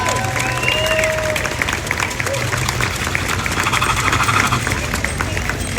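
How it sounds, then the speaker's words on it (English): A crowd claps and cheers outdoors at a downtown Lexington Labor Day rally, dense steady applause at fairly close range with voices mixed into the noise. "I want to give them a round of applause if you all don't mind."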